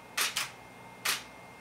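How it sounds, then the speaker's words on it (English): A Nikon D300s digital SLR shutter fires in live view, giving a quick double click and then a single click a moment later, crisp and close against a quiet room. "So to take a photo, you press the shutter."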